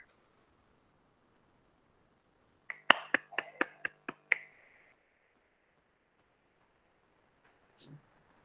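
A class gives a brief round of applause for the first group after their database presentation. A handful of sharp, close claps sounds for about two seconds, then the room goes quiet.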